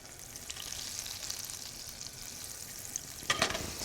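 Butter and olive oil sizzle steadily in a hot pan, a soft continuous hiss with a brief louder crackle near the end, no voices.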